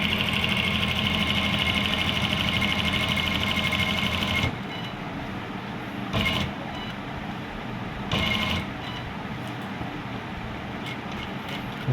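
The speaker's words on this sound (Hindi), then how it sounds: "अब आपने इसके साथ साथ मशीन चलाते जाना है, ये ऐसे।" Sewing machine stitching the lining of a U-shaped neckline, a steady fast mechanical whir running close and loud, then continuing more quietly with two brief surges of speed.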